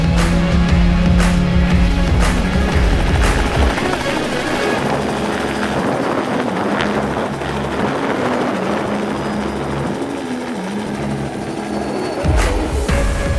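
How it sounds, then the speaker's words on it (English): Helicopter in Cape Town, South Africa, a loud close rotor thump and engine roar running steadily throughout with no pause. "Time to get to the chopper!"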